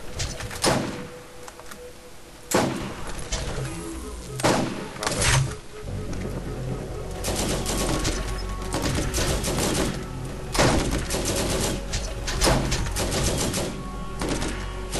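Bursts of video game gunfire from Borderlands, sharp cracks and rapid volleys that start and stop over a steady rumbling game background, loud and close throughout.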